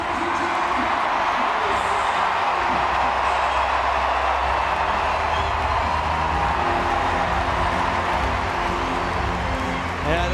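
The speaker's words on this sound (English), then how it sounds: "this big crowd here in the Olympic Stadium, hoping he can give them something to cheer" A big stadium crowd at the Olympic Stadium during a Diamond League athletics meet gives off a loud, steady roar of murmur and cheering with no break, and a commentator talks over it.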